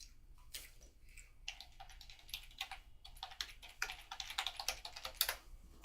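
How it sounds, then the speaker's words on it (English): Keystrokes clatter on a computer keyboard in quick irregular bursts, close and fairly quiet, growing busier and louder toward the end, with no voices. "good keyboard. Makes all the difference."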